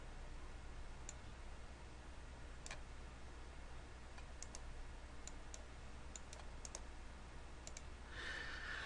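Faint, sparse keyboard key clicks come as scattered single taps and short bursts during spreadsheet formula entry, quiet and close over a steady low hum, with no talking.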